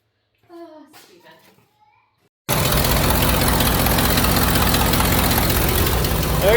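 A voice speaks briefly, then a 1974 Ford F100 pickup truck engine abruptly starts rumbling, idling steadily and loudly up close for the rest of the clip.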